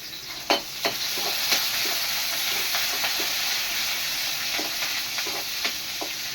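Curry leaves frying in hot oil for an oyster mushroom kuzhambu, a loud, steady, close sizzle with a few light stirring clicks scattered through it.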